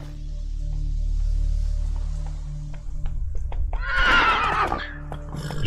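A horse in the video game The Witcher 3 gives one clear, wavering neigh after a low, steady rumble of background ambience and a few light hoof-like knocks.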